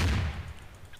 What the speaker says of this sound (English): Fire then, the cannons, not the muskets.